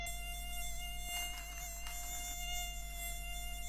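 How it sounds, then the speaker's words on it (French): A mosquito buzzes continuously in flight close by, a thin steady whine with harmonics holding for several seconds in a quiet room, with a couple of faint knocks in the background. "Il y a un moustique qui vole là."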